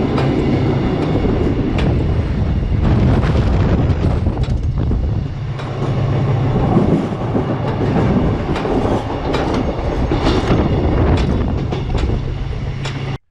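A passenger train in Tunisia rolls along its rails, loud rumbling with rhythmic clickety-clack and occasional metallic squeals and rattles, captured up close from an open carriage door, steady for the whole stretch before cutting off abruptly.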